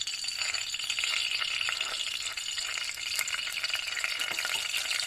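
Steady crackling sizzle of cooking oil poured into a hot pot for pumpkin soup, continuous and close, with faint scraping and rattling underneath.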